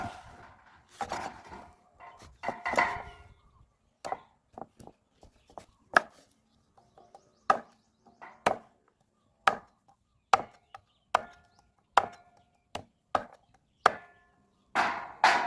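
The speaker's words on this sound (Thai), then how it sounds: "หลังจากที่ล่างเสร็จแล้วนะครับเราก็จะเอามาหั่น นะครับเอามาหั่นเป็นชิ้น" Washed roots of a medicinal creeper are chopped into pieces with a knife on a board: steady, close, sharp chops, about a dozen evenly spaced strikes after some rustling handling at the start, with no talking.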